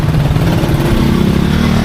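Motorcycle engine running close by, a loud steady throbbing idle with a low pulsing rumble that holds evenly throughout the brief moment, no voices.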